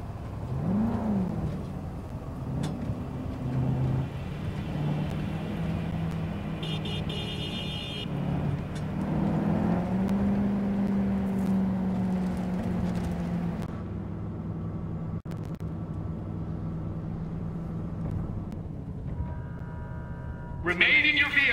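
Car engine driving in the video game Cyberpunk 2077, a steady low drone with shifting pitch, with game dialogue talking over it and brief electronic tones.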